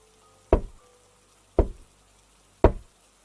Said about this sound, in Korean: 노크 소리였다